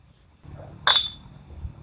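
A single bright clink of glass or broken shards rings out briefly over a low, steady background rumble, then quickly fades.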